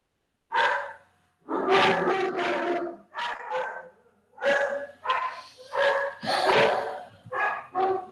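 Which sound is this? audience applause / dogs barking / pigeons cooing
dogs barking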